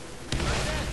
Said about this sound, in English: Oh, that was a nice grenade.